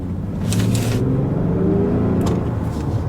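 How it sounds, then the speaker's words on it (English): The petrol engine of an Infiniti M35h hybrid car hums and runs steadily with a low droning tone, accompanied by faint hissy whooshes, continuous and close. "petrol engine working now, can you hear it?"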